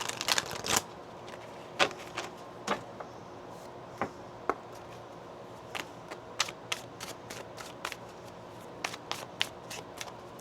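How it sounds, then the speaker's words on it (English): Tarot cards being shuffled by hand: a flurry of soft, crisp flicks and taps at the start, then scattered light card snaps and riffles in an irregular rhythm, quiet and close. "One more shuffle here."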